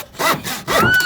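A hand saw cuts timber for a children's DIY dog bed, giving a few quick rasping strokes with scraping squeaks, close and clear with no talk.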